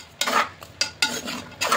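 A spoon stirs jaggery in a pot on the stove in four or five short scraping strokes, each a close, bright rasp with brief pauses between.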